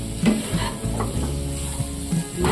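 Cluster beans sauté with freshly ground coconut in a pan: a steady low sizzle beneath repeated scraping strokes of a spoon against the pan, close and moderate in level, no talking.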